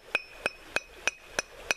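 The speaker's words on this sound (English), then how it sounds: "you can just use the straight claw of your hammer to tap it across like that" The straight claw of a hammer taps across a brick to score it, six evenly spaced, sharp ringing clinks about a third of a second apart, close and alone.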